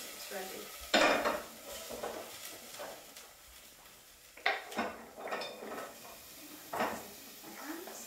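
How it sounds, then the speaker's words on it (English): Chunks of butternut squash go into a pot with clattering and scraping against the metal, stirred over a soft background sizzle, the impacts close and irregular. "So let's add the squash in now."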